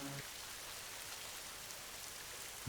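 Steady rain falls in an even, soft hiss that continues without a break, fairly faint and with no voices.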